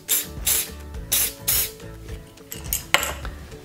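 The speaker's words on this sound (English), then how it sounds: "you take a little bit of Wilton Gold Color Mist and then you spray it on your horn" Several short bursts of Wilton Gold Color Mist aerosol spray hissing close by onto a cupcake's decorative horn, separated by brief pauses, with faint clicks of the can between sprays.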